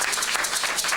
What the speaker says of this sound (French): Acclamez pour cet serviteur.